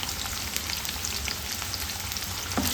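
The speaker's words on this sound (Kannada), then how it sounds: "ಅದನ್ನು ಸೇರಿಸ್ಕೊಂಡು ಫ್ರೈ ಮಾಡ್ಕೊಳ್ಳೋಣ." Finely chopped onion frying in hot oil, a dense continuous sizzle with crackling pops, loud and close, and a brief stir near the end.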